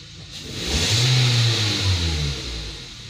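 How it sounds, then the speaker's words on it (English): A Nissan HR15 engine with a power-loss fault revs up close, climbing to a loud roaring peak, holding briefly, then easing back down toward idle. "If I rev the engine"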